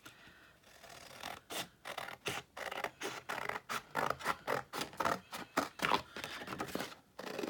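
Scissors cut through paper for a craft project in a quiet room, making a close, rhythmic series of short crisp snips and rasps.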